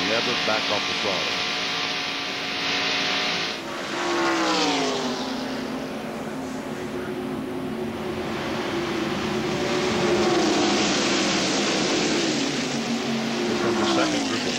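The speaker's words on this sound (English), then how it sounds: "These cars down the corner will never back off the throttle." Stock cars at the 1993 Winston 500 race scream past at full throttle through a corner, rising and falling in pitch as several cars pass, with a voice talking over the roar.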